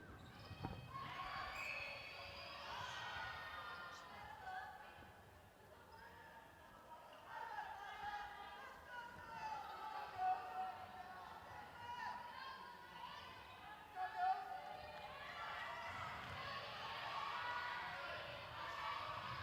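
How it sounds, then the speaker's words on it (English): Local school children cheer for Malaysia from the stands at a netball youth match against the Cook Islands, a steady, distant crowd roar with rising shouts, heard beneath ongoing commentary. "We can hear from our commentary box a local school cheering for Malaysia."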